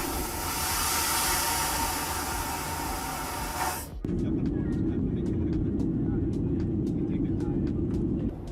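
Steady broadband roar of a Boeing 737 cabin at cruise, loud and continuous throughout, shifting to a darker, lower-pitched drone partway through, with faint clicks scattered over it.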